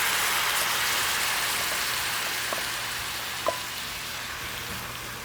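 Spinach hisses and sizzles steadily in a hot pan with shrimp, a broad, even frying crackle that fades slightly, with one small sharp pop.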